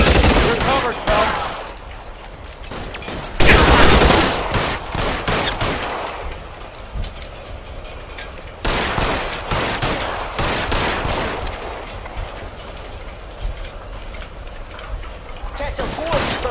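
A shootout in L.A. Noire, with loud bursts of rapid gunfire in several clusters separated by quieter gaps and mechanical clatter.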